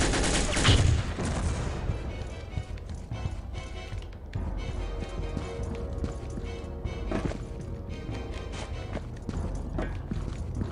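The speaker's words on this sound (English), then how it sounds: "Нас стреляют!" Gunfire rattles through a dense, noisy action scene at an airport level in Soldier of Fortune 2: Double Helix, with shots fired at the player mixed into steady game sounds and no clear pauses.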